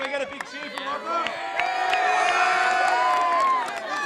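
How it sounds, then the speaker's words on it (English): A crowd at a local rugby league State of Origin match cheers and whoops with some clapping, swelling to a loud sustained roar over a few seconds, with a voice speaking at the start. "Can we get a big cheer for Ropper?"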